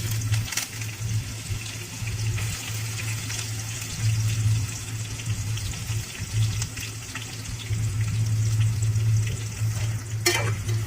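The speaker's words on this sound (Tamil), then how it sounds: "வெங்காயம் நல்லா பொன்னிறமாக வர வரைக்கும் நல்லா வதக்கிக்கலாம்." Onions with curry leaves and spices sauté in hot oil for a poori masala, a steady close sizzle and crackle with occasional stirring scrapes running throughout, and nobody speaking.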